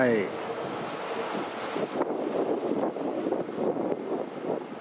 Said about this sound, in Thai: ลม แรงหน่อย เย็นสบาย